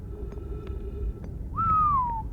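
A single human whistle in a game setting, a rising then slowly falling tone lasting under a second, clear and fairly close over a low background hum with faint clicks.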